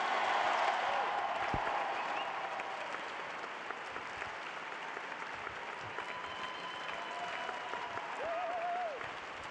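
An audience at a centrist political rally applauds Yaël Braun-Pivet: loud, sustained clapping from a large crowd with scattered cheers and whistles, easing off slightly toward the end.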